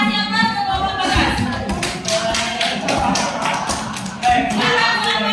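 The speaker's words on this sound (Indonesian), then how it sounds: "Kita kasih aplaus ke kelompok Bagas" A classroom of students gives a student group a round of applause: dense, close hand-clapping that continues steadily, with a burst of louder claps toward the end and some voices mixed in.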